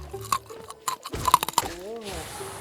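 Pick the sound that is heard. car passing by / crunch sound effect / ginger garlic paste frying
crunch sound effect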